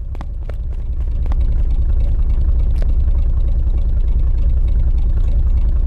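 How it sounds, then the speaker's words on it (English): Car engine in the Border Force video game, a steady low rumbling idle that swells and holds loud, with a few faint clicks early on. "I can drive the car."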